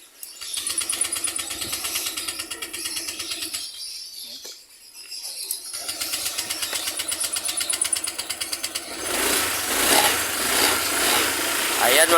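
A motorcycle engine idles nearby in a workshop after valve grinding work, a steady rough putter that drops out briefly, then restarts and revs higher near the end, with people talking over it.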